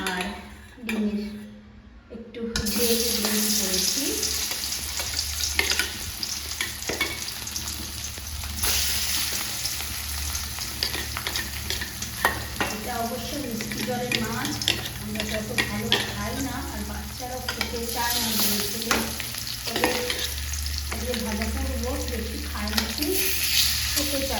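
Fish sizzling and frying in hot oil in a home kitchen pan, a steady loud crackle with scraping stirs and utensil clinks, continuing throughout without pause.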